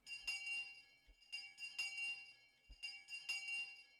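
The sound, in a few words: school bell ringing, from a video game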